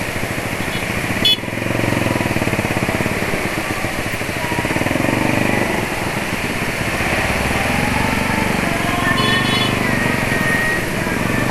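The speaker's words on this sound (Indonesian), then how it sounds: "Nih contohnya motor." A sport motorcycle engine runs steadily and loud nearby for several seconds, with a brief sharp click near the start and a faint high rattle later.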